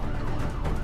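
An ambulance siren wails steadily at Nigambodh Ghat crematorium in Delhi, loud and continuous amid dense outdoor street noise.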